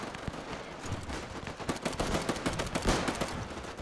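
Rapid machine gun fire rattles in dense, overlapping bursts across a World War I battlefield in Between Empires, with many shots close together and distant volleys mixed in, loud and with no talk.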